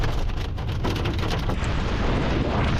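Hail pelting a car on a road trip, a dense, steady roar of countless hard impacts drumming on the bodywork, loud and continuous with no voices.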